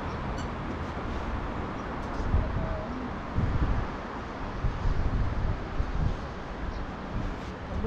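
Strong wind buffets an outdoor microphone, a steady loud low rumble with gusty surges throughout and no clear talk.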